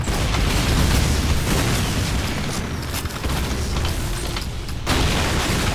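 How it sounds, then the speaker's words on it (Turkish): Dense, loud roaring blast noise fills the battlefield in Call of Duty 2 as a bomb goes off, sustained rumbling with brief dips and no talk. "Bryce patlat bombayı"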